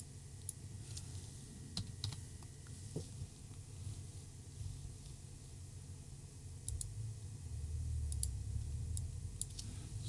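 Computer keyboard clicking, a sparse run of individual key taps spaced irregularly over a low, steady room hum, close but faint, with no talking.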